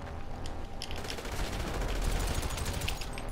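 Gunfire in GTA5, a dense rapid rattle of overlapping shots and impacts sustained throughout at moderate loudness, with no talking.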